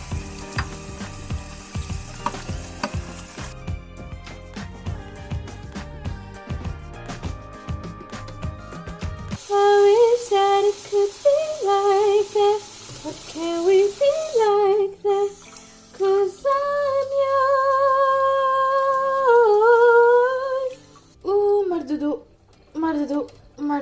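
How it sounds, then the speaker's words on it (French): Dishes being washed by hand in a sink, with running water splashing and crockery clattering, close and loud alongside stretches of background music. "c'est le moment redouté de faire la vaisselle."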